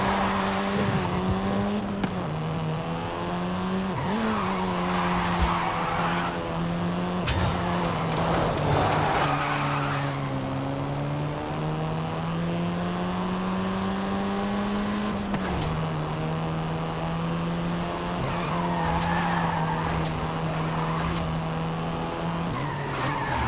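A car in Forza Horizon 5 drives with a steady engine drone and repeated tire squeals and skids, loud and close throughout with no talk.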